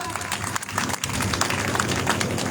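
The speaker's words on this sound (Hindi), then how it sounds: "तालियां बजाओ भाई एक बार।" An audience at a Ganesh festival devotional music gathering in a village claps along in a steady, moderately loud patter of many hands, continuing throughout without pause.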